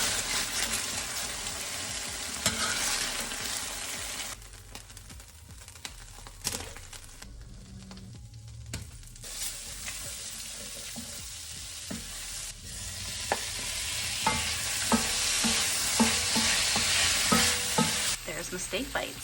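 Steak bites sear in a hot pan with a loud, continuous sizzle and crackle and occasional stirring or turning noises, close and steady throughout with no voices.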